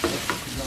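Ground meat and chopped cilantro stirred in a hot pan for nachos, a soft scraping mix over a steady sizzle with two brief louder strokes, close and with no voices.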